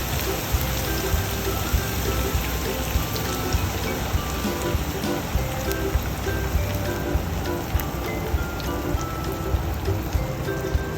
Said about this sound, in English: So you can add in your sauce, but you need to cover it.